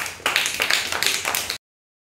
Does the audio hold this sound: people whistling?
no